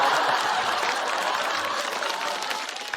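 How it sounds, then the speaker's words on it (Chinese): Stand-up comedy audience giving sustained applause, a dense, steady wash of many hands clapping with crowd noise, holding at roughly even loudness throughout. "让我们把掌声送给5哈的重点邓超老师"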